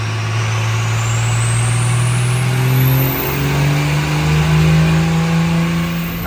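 A diesel truck fitted with a Scheid stage 2 VP44 injection pump, running without a tuner, roars loud and close on a dyno as its engine note climbs and holds through a sustained rev.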